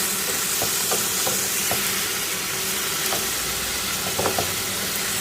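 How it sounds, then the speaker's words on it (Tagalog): Giant squid is sautéed in a hot pan for a coconut-milk squid dish, producing a loud, constant sizzle and hiss up close, broken by a few stirring clicks. "ilagay na natin, gisahin na natin"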